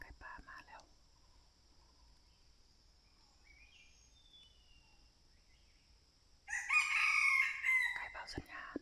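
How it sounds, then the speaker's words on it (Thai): A wild junglefowl crows in mountain forest, one loud clear call near the end after a long quiet stretch of faint insect hum, with a brief soft sound at the start. "ไก่ป่ามาแล้วทุกคนไก่ป่ามาแล้ว"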